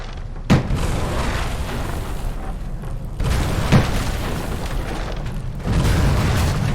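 In a WWII naval strategy video game, bombers strike coastal gun emplacements: two heavy booms land a few seconds apart over a continuous low battle rumble.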